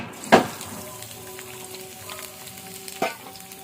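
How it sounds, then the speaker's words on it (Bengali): Chopped onion and green chili dropped into fully heated oil in a pan, two sharp bursts of sizzling followed by a quieter continuous frying hiss. "তেলটা পুরোপুরি গরম করে নিয়েছি। এবার দিচ্ছি পেঁয়াজ কুচি আর কাঁচা লঙ্কা কুচি।"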